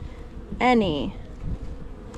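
Honey bees humming in an open hive in early spring, a steady low buzz crossed by one brief louder rising tone, with faint handling noise close by.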